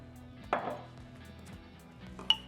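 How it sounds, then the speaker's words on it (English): Two sharp knife chops through an onion on a cutting board, spaced apart, close and quiet in an otherwise still room. "Let's chop that up."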